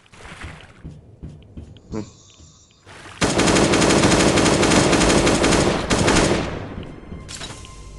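Rapid automatic gunfire rattles loudly and continuously for several seconds in the survival video game Last Day on Earth, after a few scattered single shots and clicks at the start.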